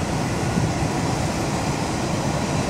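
A freight train running alongside and being overtaken, heard as a steady, loud broadband rumble and roar with no distinct clacks, with no talking.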